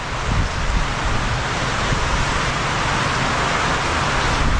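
Steady storm wind and rain during a typhoon, a dense unbroken roar that holds at an even, fairly loud level throughout with no voices.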